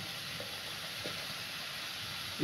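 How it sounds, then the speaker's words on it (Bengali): Chili, turmeric and cumin powders sizzling steadily in hot oil in a pan, a continuous even hiss with a few soft stirring scrapes, close and unbroken, no voices. "সুন্দর করে আমি মশলাটা কষিয়ে নিচ্ছি।"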